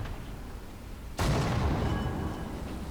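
A British 17 pdr M10 Achilles tank destroyer gun fires in War Thunder, one sudden loud boom that trails into a long rumbling decay over steady engine noise.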